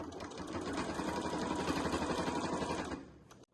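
A sewing machine stitches a family-size beach bag in a fast, even mechanical patter that runs for about three seconds, then slows and stops. The machine is close and runs alone.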